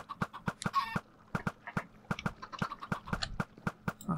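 Minecraft chicken-hatching machine with eggs cracking into chickens: rapid, regular clicking pops about every quarter second, mixed with occasional soft clucks and squawks, fairly loud and steady.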